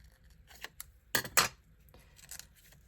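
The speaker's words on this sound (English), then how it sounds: "I do want to cut out this little white piece here." Scissors snipping through a piece of magazine paper for a collage paper doll, a few quick, quiet close cuts, with two louder snips in the middle against a faint background.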